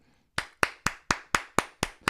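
A radio morning show host claps his hands alone, eight sharp, close claps in an even, steady rhythm after a brief silence.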